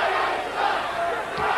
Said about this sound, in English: And listen to the response from the crowd here.